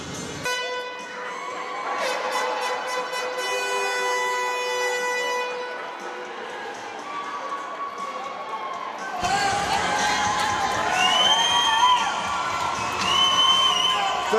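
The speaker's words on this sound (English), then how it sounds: "The two teams come out to thunderous applause" Junior hockey arena crowd at a game seven, cheering and applauding as the teams come onto the ice, with a PA announcer's voice and music over the noise and a louder surge of cheers near the end.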